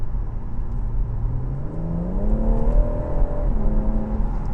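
A BMW M140's engine rises in a smooth climbing rev as the transmission kicks down a gear in sport mode, loud and close with a steady drone from inside the car.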